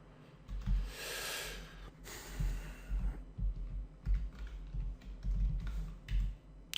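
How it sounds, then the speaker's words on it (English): Fingers typing on a computer keyboard while filling in a web form, a close run of uneven key clicks in short bursts with breathing audible between them. "let me type this as a paragraph"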